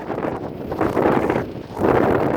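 Strong wind buffets the microphone in low, rumbling gusts that swell and ease twice over a couple of seconds, on an old wood plank road in California.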